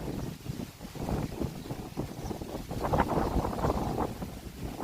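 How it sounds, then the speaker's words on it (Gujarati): Wind blows at a monsoon hill station, a continuous rumbling, buffeting roar with gusts that rise and fall across several seconds. "એકદમ મસ્તીની હવા આવે"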